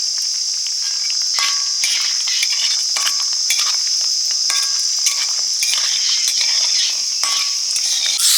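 Bori, lentil dumplings, frying in hot oil, with a steady, loud, bright sizzle running throughout and occasional faint clinks and stirring touches over it.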